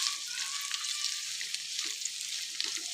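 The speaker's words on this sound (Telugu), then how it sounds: "నేను 15 మినిట్స్ నుంచి మంచిగా మధ్యలో కలుపుతూ ఇట్లా ఫ్రై అనేది చేస్తున్నాను" Green beans and carrots frying in a pan, with a constant bright crackling sizzle close up and scattered clicks and scrapes as the vegetables are stirred, and no voices.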